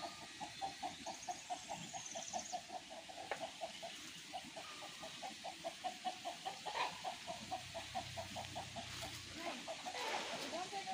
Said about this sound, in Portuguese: A Kika fica correndo atrás das galinhas.